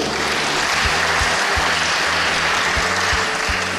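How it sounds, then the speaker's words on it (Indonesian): An audience at an Indonesian state independence reception claps steadily, a dense wash of applause with low thumping pulses underneath and no speech. "Tepuk tangan dulu untuk Indonesia."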